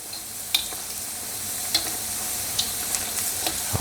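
Egg rolls frying in a pan of oil, a steady hissing sizzle broken by several sharp crackles and pops, close up with no one speaking.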